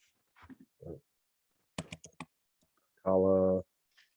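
Typing on a computer keyboard: scattered bursts of close, crisp key clicks in short irregular runs, with a brief sustained tonal hum near the end and quiet gaps between.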